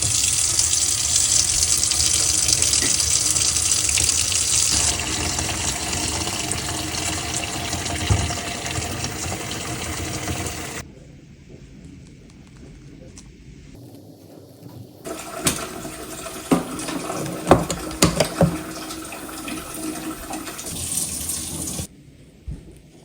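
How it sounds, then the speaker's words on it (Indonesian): Hot water runs hard from a tap during washing, a loud steady gush that cuts off abruptly, leaves a quieter gap with faint handling noises, then resumes with splashing and clatter before stopping again. "Ini lagi nyuci. Airnya tuh panas."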